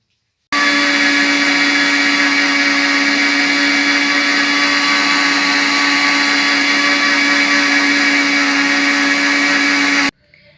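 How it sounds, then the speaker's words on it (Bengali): An electric mixer grinder whirs steadily as it grinds semolina, a loud, constant motor whine that starts abruptly, holds unchanged for about ten seconds, then cuts off. "আর এবার কিন্তু আমি এটা মিক্সিতে গুঁড়ো করে নেব।"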